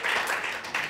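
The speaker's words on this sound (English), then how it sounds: "I think that deserves a round of applause" Studio audience applause at a celebrity chat show, a dense wash of clapping that swells and dips briefly over about a second, fairly loud and close with no talk over it.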